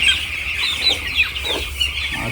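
Chickens cluck and squawk close by in a crowded feeding area, several birds calling in an overlapping, irregular stream over a steady low rumble, with no talk.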